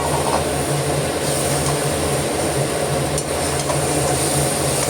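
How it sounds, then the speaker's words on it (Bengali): Chicken pieces added to spice masala in a pan and stirred, a dense continuous sizzle with scraping and rattling, loud and close with no talk. "এইবারে আমি এই মশলার মধ্যে দিয়ে দিচ্ছি চিকেন।"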